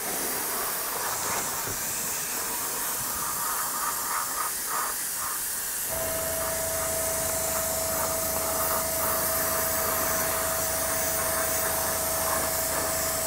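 An airbrush sprays primer onto a Tamiya T-55 tank model while its needle clogs with paint. A loud, steady hiss runs through the whole stretch, and a constant humming tone joins it halfway through. No one speaks.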